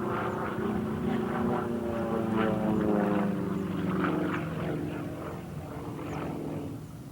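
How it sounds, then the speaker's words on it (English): Competition aerobatic aircraft flying a sequence, engine drone rising and falling steadily throughout, loud and continuous with shifting pitch as it maneuvers; a narrator's voice is faintly present underneath. "it is third-place Russian Mikhail Mamistov who flies the best sequence of the day"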